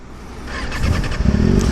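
A superbike fitted with an SC exhaust fires up and its engine note builds into rising, throaty revs, loud and close, with no talking.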